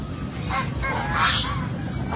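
Imported geese on a farm honk in a few loud, nasal calls that overlap, close by, over a rough background murmur.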